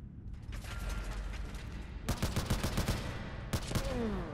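Bursts of gunfire in a zombie survival video game, a steady rattle of shots for the first half, then a louder, denser volley of rapid automatic fire and a final burst near the end.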